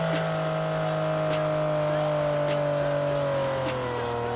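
Video game car engine in PUBG holds a steady, loud drone with a few brief squeal-like bursts, under a constant hum and no speech.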